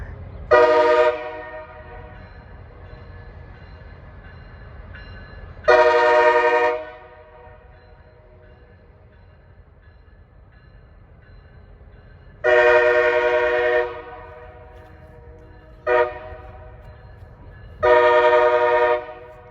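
A Norfolk Southern grain train with an Erie heritage unit pulls away eastbound at Kenova, West Virginia, sounding a series of loud air-horn blasts, two long ones and then a short toot and a longer blast, over a steady low rumble of moving freight cars.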